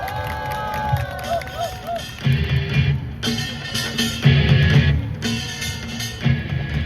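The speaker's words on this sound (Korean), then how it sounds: "힘찬 박수로 맞이해 주시기 바랍니다" Crowd at a rally in Ulsan clapping and cheering in rhythmic bursts, moderately loud with voices mixed in.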